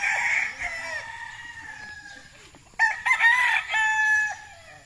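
Roosters at a gamefarm crow close by: a long crow fades out, then a second loud crow breaks in with overlapping calls and clucks, over a quiet background.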